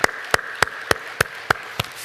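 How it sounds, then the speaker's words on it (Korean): A church congregation at a New Year blessing service claps in unison, about eight sharp, evenly spaced claps in a steady rhythm, fairly close and with no talk over them. "우리 수고한 모든 분들에게 우리 감사하다고 박수 한번 해주시죠."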